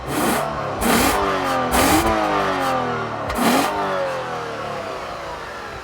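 A 2014 Lexus IS350 F-Sport engine accelerates hard through several gears with paddle-shifted upshifts, each marked by a brief break before the pitch climbs again, loud and close.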